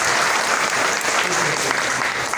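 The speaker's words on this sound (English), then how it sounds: "We clap our hand to pastor." Church audience claps for the pastor during a service, a dense, steady, loud wash of applause filling the whole moment without a break.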